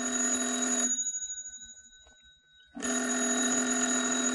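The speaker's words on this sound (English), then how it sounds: "Daisy, the phone. It's ringing" An old-style telephone bell rings in a radio drama, a loud continuous metallic trill that cuts out briefly and then resumes just as strongly, with no voices.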